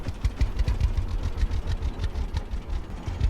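Idling tractor engine in the Farmer's Dynasty farming game, a steady low rumble with a rapid, even chugging pulse that holds at a constant level throughout, with no voices.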